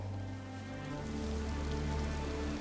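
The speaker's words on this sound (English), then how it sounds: "The skies had opened, and the rains were finally falling." Rain pours steadily in a video game, a continuous broadband hiss layered over a low droning hum that swells slightly after the first second and holds without a break.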